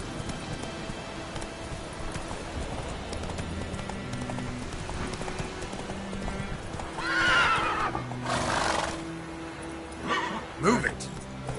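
Roach, Geralt's horse in The Witcher 3: Wild Hunt, trots with steady clip-clop hoofbeats and lets out a loud neigh near the end, under a voice and game ambience.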